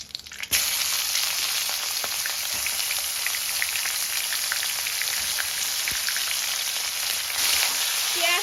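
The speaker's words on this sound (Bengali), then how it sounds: "পেঁয়াজটাকে একটু লাল করে ভেজে নেব।" Chopped onion hits hot oil already spiced with bay leaves and whole garam masala, bursting into a sudden sizzle that settles into a steady, moderately loud crackle with occasional stirring clicks, and no talking.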